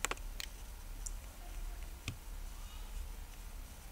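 Mouse clicks from setting up a Gmail account in Outlook 2007 on a computer: a few sharp, quiet clicks spaced irregularly over a low background hum, with no talking.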